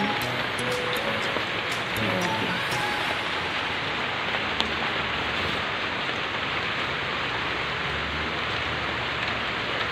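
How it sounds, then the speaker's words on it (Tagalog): Steady, continuous rain pours over a garden with flooded watermelon plants, a dense even hiss of drops on leaves and ground throughout, with a few faint tones underneath. "Kaso wala naman tigil ang ulan."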